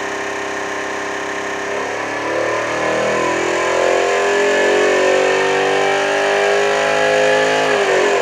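A small DualPole electric motor running with no load spins up past 10,000 RPM. It gives a loud, steady mechanical whine whose pitch climbs quickly and then holds at a high, even speed.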